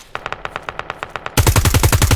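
Rapid automatic gunfire in the Roblox war game The Eastern War 2.5, first a quieter regular burst of shots, then a much louder, denser stream of rounds firing close up.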